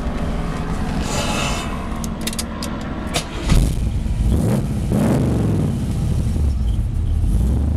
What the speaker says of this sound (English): Sounds real nice, dual exhaust, straight pipes underneath.